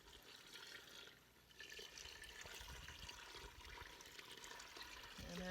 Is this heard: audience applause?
no